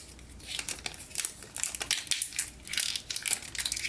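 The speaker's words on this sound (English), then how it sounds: "Let's unwrap this." Plastic wrapping being peeled and torn off an I500 TWS wireless earbuds box, close and crisp, with repeated crinkling and crackling bursts throughout and no talking.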